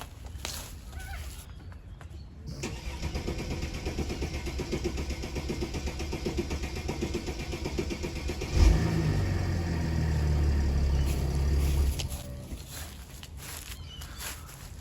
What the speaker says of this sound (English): that was a long time cranking, and when it actually then eventually did fire, it puffed a lot of smoke there